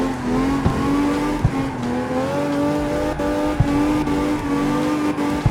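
A V12 drift car in CarX Street holds a steady high-revving engine drone with its wheels spinning, the tone wavering slightly with a few brief tire chirps and clicks, loud and continuous, no voices.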